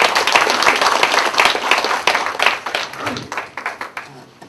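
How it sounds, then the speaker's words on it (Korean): An audience in a Busan lecture hall breaks into hearty applause to welcome a visiting economics professor, dense clapping that is loud at first and then thins into scattered, fading claps. "강사님께 힘찬 박수로 강의 시작하도록 하겠습니다"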